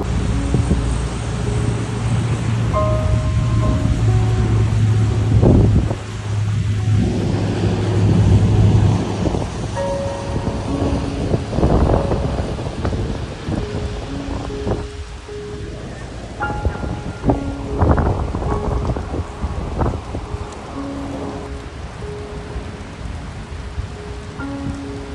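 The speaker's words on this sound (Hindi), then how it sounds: "बर्फ की बारिश हो रही है" Hail falling outdoors in Qatar, a dense steady patter of ice on surfaces with sharper clattering impacts and gusts of wind throughout, close and loud, joined by occasional faint tonal sounds in the background.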